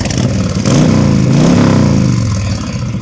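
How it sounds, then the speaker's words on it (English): A Honda Sabre 1300 motorcycle's exhaust revs loudly up close, the engine's throaty rumble climbing and falling in a short burst with dense pulsing firing beats. "Listen to this exhaust."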